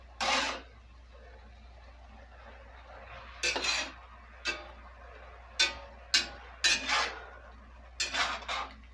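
A spoon scrapes and clanks against a pot while a liquid-heavy food mixture is stirred, in short separate bursts of metallic clatter with quiet gaps between them, close and fairly soft, with no talk.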